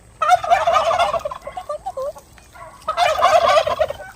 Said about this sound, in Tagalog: Mga rare yun brown na pabo